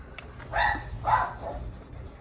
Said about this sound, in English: My husband went outside and the dog is freaking out.